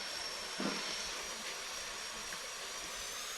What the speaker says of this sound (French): Oh là, on remet les moteurs.